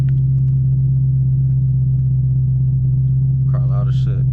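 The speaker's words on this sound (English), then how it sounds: "this car loud as hell" Deep, steady engine rumble from a 6-speed Camaro ZL1 on a night drive, a loud continuous low drone heard from inside the car, with a brief voice toward the end.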